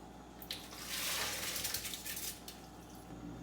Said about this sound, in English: So I rinse the rice in some water, and then I will drain it before I cook it in more water.